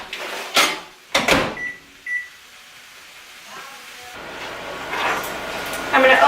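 A few short knocks and clunks from a kitchen give way to a microwave oven humming steadily as it heats bagged frozen corn, with faint beeps near the start.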